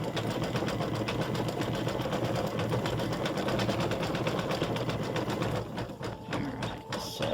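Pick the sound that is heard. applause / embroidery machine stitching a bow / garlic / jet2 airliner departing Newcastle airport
embroidery machine stitching a bow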